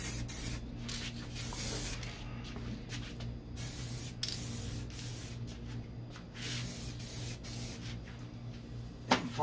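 A second coat of spray paint goes onto the passenger door of a 1969 Corvette C3, heard as close hissing bursts with brief pauses between passes and a faint steady hum underneath.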